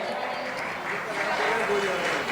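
An audience claps at a religious sermon to honour a guest, producing a dense sustained crackle of applause across the whole moment, with a voice speaking over it.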